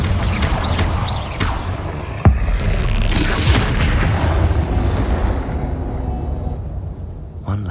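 A Confringo fire spell bursts in Hogwarts Legacy amid combat, a sharp loud boom standing out once over a dense wash of magical crackle and battle noise, no talking.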